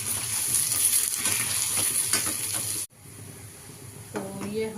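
Steady sizzling of ginger, garlic and onion frying in hot oil, with occasional stirring clicks; the sizzle drops out briefly, then returns more softly with a faint tone.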